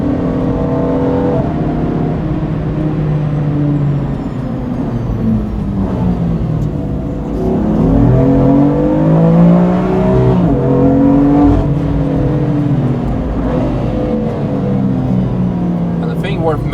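A BMW M4 engine accelerating and revving through corners, loud and continuous with rising and falling pitch, with people talking over it inside the car.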